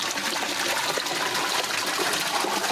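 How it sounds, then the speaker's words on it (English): A solar-powered DC pump moves water drawn from a home fish tank, giving a steady, continuous rushing and trickling splash close by with no pauses. "this is pumping water from our fish tank"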